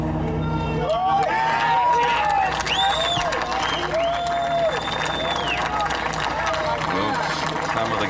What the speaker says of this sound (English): Some of the gallery cheering that drive with their hearts.